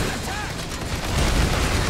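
Gunfire aimed at fast winged flying aliens in Earth Defense Force 6, a dense rumbling barrage that builds louder toward the end and blends with other game noise.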